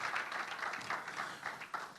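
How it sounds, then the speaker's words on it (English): Applause from an audience at a real estate investment talk, a steady crowd of claps at moderate, fairly faint level with no talk over it. "Can you please give me a round of applause?"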